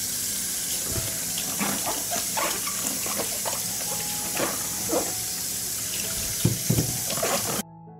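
Tap water runs steadily into a sink as fresh peppers are washed under it. The water makes a constant, close hiss, and occasional splashes and knocks come from handling the peppers, before it cuts off at the end.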